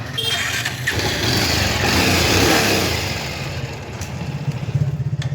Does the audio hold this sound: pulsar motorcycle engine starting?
yes